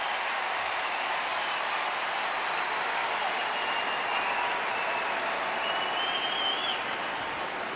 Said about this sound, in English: now another big ovation for Bo Bichette, who acknowledges the crowd again here today